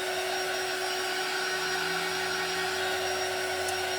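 Handheld heat tool drying crackle medium on a dollar-store craft tag, a steady loud blowing whir with constant tonal hum, unbroken and close.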